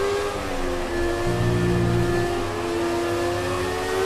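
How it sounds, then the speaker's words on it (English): Formula 1 car engine revving in the F1 2017 racing game at Shanghai, a steady loud tonal drone with a brief low rumble in the middle, continuous and close with no voices. "Oh, the sound of a good engine."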